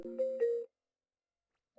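A phone ringtone sounds as a short electronic chime, two bright rising tones lasting under a second, followed by silence and a faint blip at the end.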